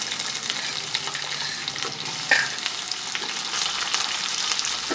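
Tempering spices, dried red chillies and curry leaves sputtering in hot oil for a black-eyed pea tomato curry, a dense continuous sizzle with a brief louder burst midway as onion pieces drop in, no voices.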